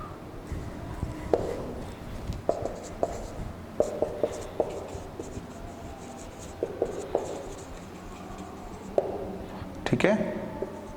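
Marker or chalk writing on a board during an accountancy lesson, with short scratchy strokes and taps repeating irregularly and closely while someone talks faintly in the background.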